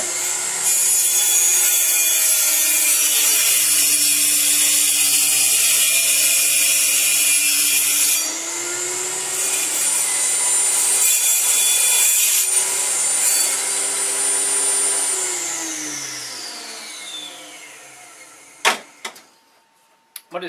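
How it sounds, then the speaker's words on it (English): A Dremel table saw cuts through wood in one long loud whining pass, its pitch shifting as the blade bites and eases. It finishes with a drop in pitch as the motor winds down, then a few knocks. "this Dremel table saw that I bought from one member here on the forum has been great"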